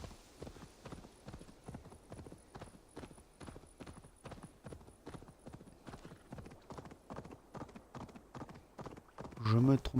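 Horse hooves clip-clop at a steady trotting rhythm in the video game Assassin's Creed Valhalla, continuous and fairly close, with a brief whinny-like burst at the end.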